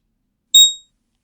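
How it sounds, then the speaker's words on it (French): A single short, bright electronic beep from a TradingView price alert on a PC, loud and clean against silence, fading out quickly. "C'est les alarmes TradingView, c'est un vieux bip."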